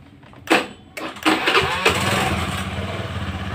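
Honda Beat scooter with a charging fault being cranked by its electric starter on a normal battery, a few bursts of cranking before the engine catches and settles into a steady idle, close and loud.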